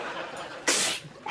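One short, sharp sneeze bursts out over a quiet room, brief and fairly close.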